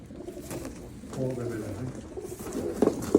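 Pigeons coo softly and continuously nearby, with someone talking over them and a couple of short knocks near the end.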